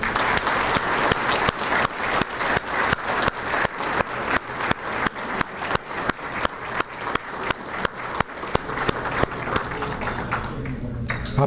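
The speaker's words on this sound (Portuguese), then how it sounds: "que nós dessemos uma salva de palmas ao saudoso presidente Rubens Aprobato Machado" An audience at a business luncheon meeting gives sustained, rhythmic applause as a tribute. Loud, dense clapping falls into a steady unified beat for about ten seconds, then loosens and fades near the end.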